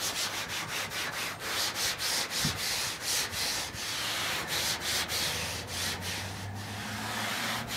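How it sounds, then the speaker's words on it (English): A wet rag rubbed firmly back and forth over the hood panel of an old abandoned truck gives a steady, close, rough scrubbing sound in rhythmic strokes, with no talk. "It's just as easy as wetting your rag and rubbing down the panel."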